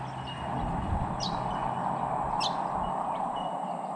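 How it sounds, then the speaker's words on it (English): Several high, sharp bell miner bird calls ring out over a steady hum of background noise, a few distinct pings scattered across a few seconds. "Can you hear the amount of bell miner birds calling out?"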